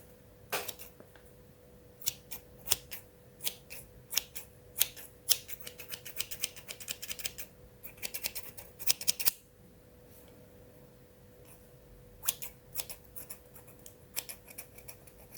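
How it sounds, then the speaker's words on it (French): Scissors snip close to the mic in quick runs of crisp, sharp cuts, with a pause of silence midway before more snips resume, all over a quiet steady background hum. "c'était les ciseaux"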